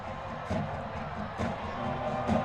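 Crowd at a high school football game, a steady murmur of many spectators with a few brief swells of cheering, heard at a distance.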